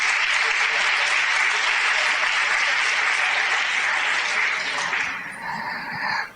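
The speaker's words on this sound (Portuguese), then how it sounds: "Vamos dar uma salva de palmas?" Dense congregational applause at a church family-marriage gathering fills the space, steady and loud, then fades out near the end into a few scattered claps.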